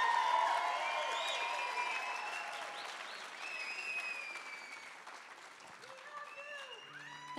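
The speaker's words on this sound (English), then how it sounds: "How about another nice round of applause for my wonderful band" Concert crowd applauding a country music singer's backing band during an encore, sustained clapping and cheering that slowly tapers, with a voice and some musical tones drifting over it near the end.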